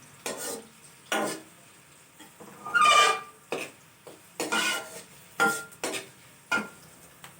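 Onions frying in a pan over a medium flame, with repeated short scraping bursts from stirring over a faint, steady sizzle, close and fairly quiet.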